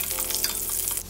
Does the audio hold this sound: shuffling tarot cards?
no